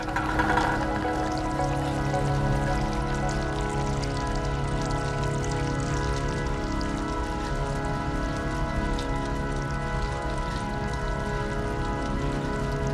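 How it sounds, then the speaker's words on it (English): Steady rushing water in the video game Stray, a continuous close wash of flowing sound with a constant tonal hum of game music layered over it, no voices. "I hear water"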